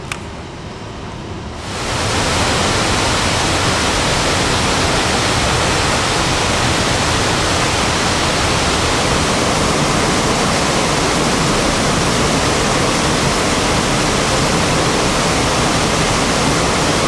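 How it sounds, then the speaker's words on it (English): The Khoudong waterfall on the Barak river pours in a dense, loud, continuous roar of falling water, rising abruptly after a quieter opening second and then holding steady throughout. "just around the bend, you'll find the Khoudong waterfall, one of the most beautiful among the 7 waterfalls of the Barak river"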